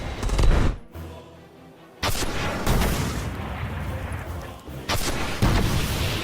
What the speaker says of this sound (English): those cluster bombs pop off